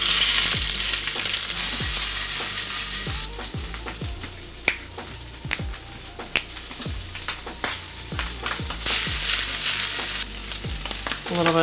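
Shrimp fry in ghee, sizzling steadily up close while a spatula or tongs clacks and scrapes against the pan at an irregular rhythm.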